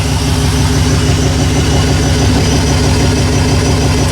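A shed-built turbo LS burnout truck idles steadily at close range, its low, even engine rumble running continuously without revving.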